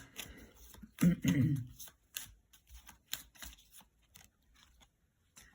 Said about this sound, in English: It's like they want me to shuffle in front of you.